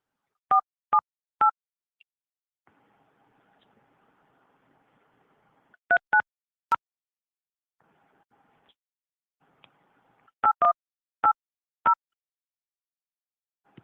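Telephone keypad dialing while placing a call: three quick touch-tone beeps, a faint steady tone, another pair of beeps, then a final cluster of rapid beeps, clear and close with no talking.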